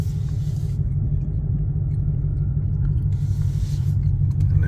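A Ford GT500 drives along with a deep, steady engine rumble heard from inside the cabin, loud and continuous with no talk.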